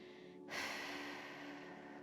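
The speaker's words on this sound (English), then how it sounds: "you're just going to fully exhale here, completely empty out, let that breath go" One long, full exhale during a beginner yoga breathing exercise, a soft breathy rush that starts abruptly and fades gently in a quiet room.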